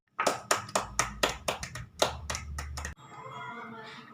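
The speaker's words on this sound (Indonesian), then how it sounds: "Coba kasih aplaus buat kita semua." Rhythmic clapping in an elementary school classroom, about a dozen sharp, evenly spaced claps close by, ending abruptly and followed by a brief murmur of voices.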